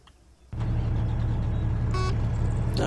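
A car pulling away in a video game, quiet at first, then a loud engine suddenly starts running and holds a steady rumble, with a few brief beeping tones over it.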